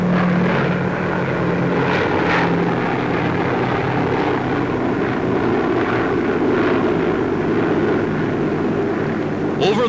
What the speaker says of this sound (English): United States bombers take off from bases in the Arctic to blast the remaining Japanese on Kiska